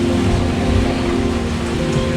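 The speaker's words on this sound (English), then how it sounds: "Oh, it's raining." Steady, dense hiss of rain pattering on a sailboat crossing the Pacific in stormy, rough seas, with a low rumbling undertone from wind and water, continuous and fairly loud throughout.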